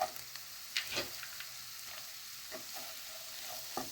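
Steady sizzling of onion and carrot frying in a pan, with occasional stirring scrapes and soft clicks, close and continuous, no voices.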